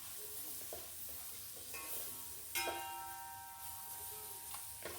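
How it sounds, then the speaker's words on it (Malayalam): Lemon stirred into a dates and lemon pickle, a faint soft sizzle under scattered scrapes and clinks of a spoon against the pot, including one sharp ringing knock. "നാരങ്ങ ഇട്ട് നന്നായിട്ട് എല്ലാം കൂടി ഒന്ന് ഇളക്കി യോജിപ്പിക്കാം"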